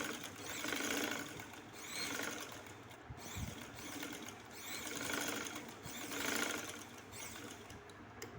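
A sewing machine stitches the seam of a skirt with a steady, fast mechanical whirr that swells and eases in repeated runs, heard alone at a close, moderate level.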